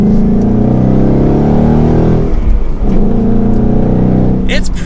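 A 2021 Ford Mustang GT V8 with manual transmission revs and drones loudly up close, with sharp rev-matching blips as the revs climb between gear changes.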